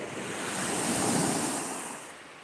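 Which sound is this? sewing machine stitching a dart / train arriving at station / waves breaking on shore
waves breaking on shore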